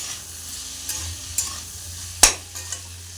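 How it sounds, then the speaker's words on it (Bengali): Spoon stirring salt into a frying soybean and egg curry, a soft constant sizzle broken by a few sharp scraping clicks against the pan, one loud knock near the end. "তো ভালোভাবে নুনটা ভালোভাবে নাড়াচাড়া করে নিতে হবে।"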